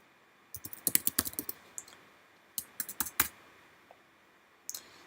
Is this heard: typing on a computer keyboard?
yes